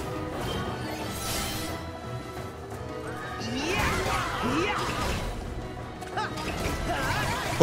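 A horse whinnies amid busy Kingdom Hearts 3 game sounds, with whooshes, clattering hooves and a sharp crash at the end.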